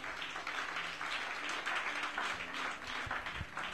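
A church congregation applauds the Lord at a service, with dense, continuous clapping at moderate distance that carries on for the whole stretch.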